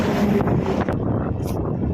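Strong wind buffets the microphone in loud, rough gusts during a bicycle ride, a continuous roaring rumble with no speech.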